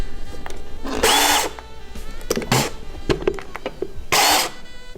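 A Ryobi PEX clamping power tool runs in two short, loud motor bursts, with clicks and handling noise between them and no talk.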